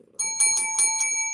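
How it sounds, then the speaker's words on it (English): A bright notification bell chimes in a quick run of four or five metallic rings, clear and alone, with a faint murmur beneath. "I ask that you please ring that bell so that you can get notifications."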